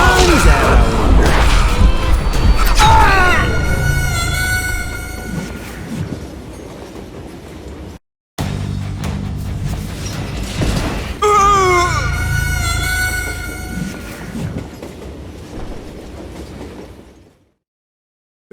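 A steam-era train in the western shooter Call of Juarez Gunslinger rumbles loudly along the rails with clattering wheels and long, wavering metallic squeals of wheels on track, a brief cutout midway, then fading to silence at the end.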